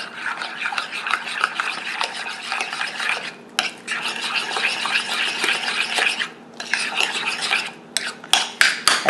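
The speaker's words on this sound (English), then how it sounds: "And then I just want to break up that egg and stir it all together." Egg and Parmesan are stirred into a cheese mixture for a meat lasagna, giving a steady, close scraping and swishing of a utensil in a bowl with brief pauses.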